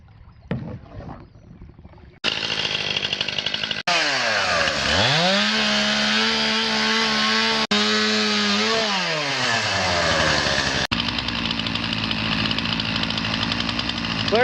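A chainsaw roars loudly and steadily, its pitch dipping and rising as the engine revs under load, with brief cutoffs between bursts.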